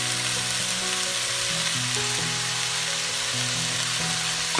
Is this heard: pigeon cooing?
no